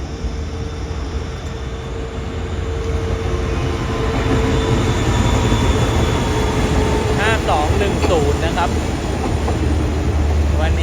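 A QSY diesel locomotive rated at 3,218 horsepower hauls the Thaksin special express past Ban Pong station, a loud continuous rumble of engine and rolling wagons with squealing wheel tones, sustained throughout.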